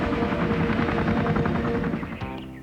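Attack helicopters in a Toxic Crusaders cartoon invading Tromaville: a loud, steady rotor chop with dense engine roar that runs unbroken, then drops off near the end to quieter tones.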